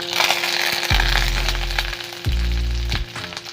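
Curry leaves hit hot oil with ginger-garlic paste for a spinach palak sabji, giving a close, busy sizzle broken by a few sharp crackling bursts.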